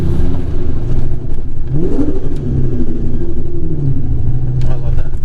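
A 2003-2004 Mustang Terminator Cobra convertible revs loudly through a tunnel, its engine roar swelling and echoing close by with rumbling surges, and no talk over it.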